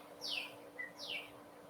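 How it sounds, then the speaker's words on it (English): A brown thrasher sings near a porch: two bright, descending chirps with a short note between them, fairly faint against quiet background hum. "it might be a brown thrasher"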